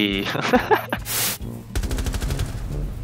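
Gunfire crackles in Rainbow Six Siege as several sharp shots, then a rapid automatic burst, come close and loud with game sounds around them.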